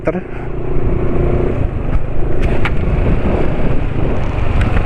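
A diesel engine running on 5W-40 oil idles with a steady low rumble and faint mechanical ticking, heard up close with some wind buffeting the microphone.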